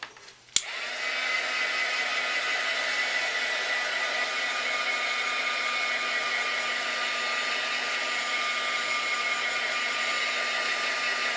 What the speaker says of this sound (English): I'm going to dry it real quick with my heat tool